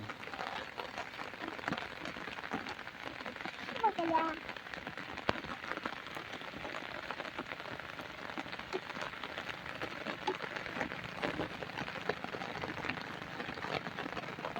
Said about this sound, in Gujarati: કપાસનો ગુણ થાય એવી રીતનો વરસાદ ચાલુ છે